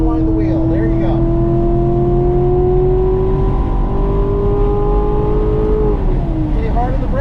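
A race car engine accelerates on the Burt Brothers Motorpark East Track, a loud, steady rising drone with engine tones climbing together and then dropping off near the end. It is close and continuous, with no talk over it.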